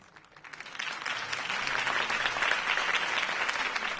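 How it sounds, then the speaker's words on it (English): A crowd in the video game Batman: The Telltale Series breaks into applause, swelling from a few claps into sustained, dense clapping that holds steady to the end. "could have heard that applause"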